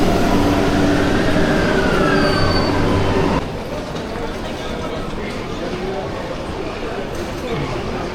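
A train passes on a Japanese rail line near the old Nakasendo trail in Nakatsugawa, loud rumbling with squealing wheels for several seconds before dropping to a quieter rolling noise, while people talk nearby.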